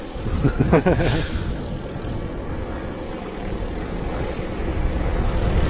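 A plane at Manchester City Airport, likely a light propeller aircraft, gives off a steady engine drone at moderate distance, with brief louder bursts early on, and faint voices underneath.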